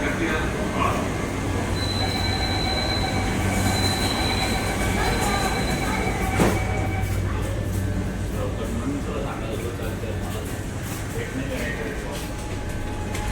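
An underground metro train on the Siddhivinayak to Aarey line in Mumbai runs in a steady, loud rumble, with thin wheel squeals, a sharp clack midway and voices talking under the noise.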